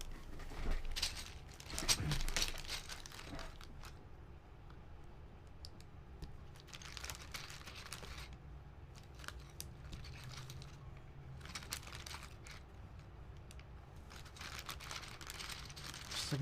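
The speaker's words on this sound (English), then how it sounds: "I'm going to grab those keycaps again and just check alignment" Plastic keycaps on a Macintosh M0110 keyboard build with lavender switches and a zebrawood plate, clicking and rattling in scattered bursts of handling, close and fairly quiet.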